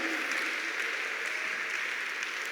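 Steady congregation applause fills a church, an even wash of clapping with no break, moderately loud and diffuse as in a large room.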